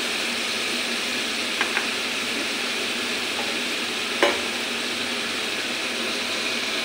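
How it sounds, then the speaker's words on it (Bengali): Spices with turmeric and salt tempering in hot oil in a pan, a steady close sizzle throughout with a couple of faint utensil clinks. "ভালো করে ফোড়নটা কষে নিই"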